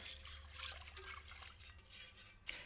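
Milk trickles and splashes faintly as it is poured into custard paste in a pan while making rhubarb custard teacake, a soft, close liquid pour ending with a brief small clink.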